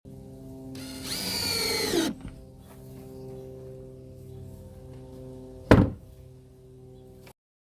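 A power drill drives screws into a wooden chicken coop, a loud whining burst that winds down, then a quiet pause and a hard knock before the hum stops.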